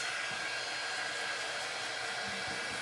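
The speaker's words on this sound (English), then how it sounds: "I actually have a heat tool right here" A craft heat tool blows hot air in a craft room, a steady, close, loud whooshing hiss with a faint motor whine that holds level from start to finish, no talking.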